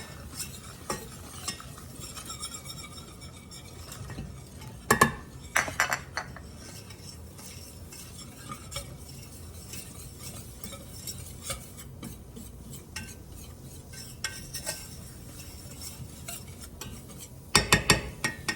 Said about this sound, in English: So I'm going to put that into the butter, let that thicken up.